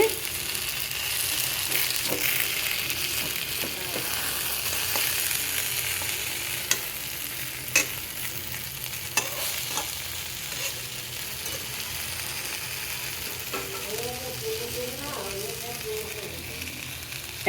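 Stuffed eggplant and green chilies frying in a small amount of oil in a pan over low heat, a steady soft sizzle with occasional spatula scrapes and clinks as the pan is stirred.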